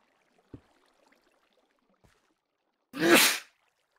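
One short, loud sneeze bursts out close to the microphone after a couple of faint clicks and near silence.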